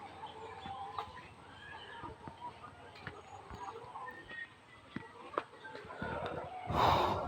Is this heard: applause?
no